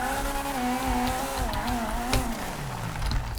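A modded Fiat Tipo engine in GTA 5 runs continuously and loud, its revving pitch rising and falling in steady harmonic waves, with a tire squeal mixed in.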